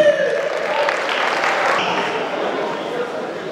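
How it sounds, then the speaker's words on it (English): Applause from a comedy show crowd, loud continuous clapping and crowd noise filling the room, with voices mixed in. "Round of applause, please"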